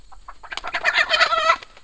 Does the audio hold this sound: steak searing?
no